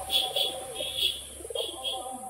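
Kathlal racing pigeons, a male and female pair kept for road racing, give soft, close coos in short repeated bursts, with brief pauses between calls.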